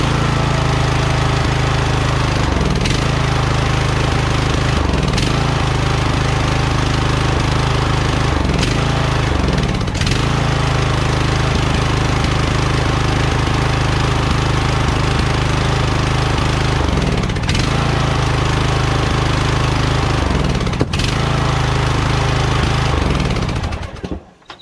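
A lawn tractor engine with a faulty brake safety switch drones loud and steady up close, a rough continuous mechanical rumble with periodic clunks and dips in pitch as it threatens to stall.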